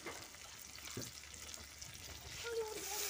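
Vegetables fry softly in a pan, a quiet continuous sizzle with a light knock or two, rising slightly toward the end, no clear speech.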